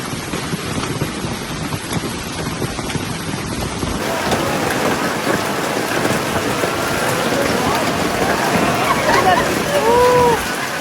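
A hail storm in Paris, a dense roar of ice and rain pelting surfaces that grows heavier after a few seconds, with a steady loud wash throughout and a brief whistle-like tone near the end.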